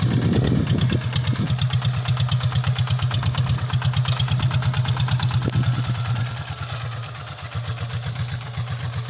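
A single-cylinder walking tractor engine chugs in a steady, rapid rhythm close by while plowing a field, dropping slightly in loudness toward the end as it keeps running.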